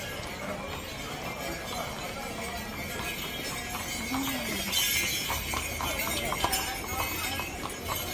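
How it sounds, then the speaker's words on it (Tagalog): Horse hooves clip-clop on a city street among crowds in Switzerland, heard under steady crowd chatter and street noise with voices talking throughout. "Ang kabayo."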